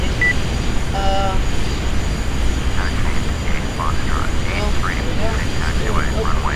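Jet aircraft engine in the Flight Simulator X game, a steady loud whine and rumble running throughout, with someone talking over it and short cockpit beeps.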